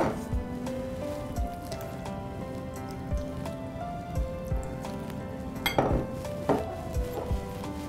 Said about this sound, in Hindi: पानी से डो बनाएंगे।